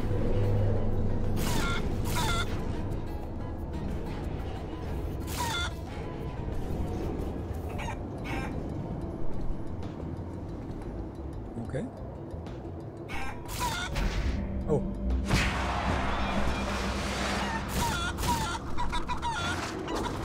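A chicken in the video game Guacamelee 2 gives repeated clucks and squawky calls in short bursts over a low rumbling background hum, fairly close and moderately loud.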